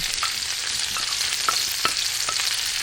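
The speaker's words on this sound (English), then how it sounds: "now we put the shallot" Shallots frying in a pan with red wine nearby, a steady close sizzle with scattered crackles and a few sharper pops, no voices.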